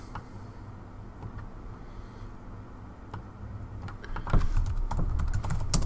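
Fingers type on a computer keyboard, giving soft, quick clicks over a quiet room hum. The keystrokes come in bursts that grow louder and denser near the end, and no one speaks.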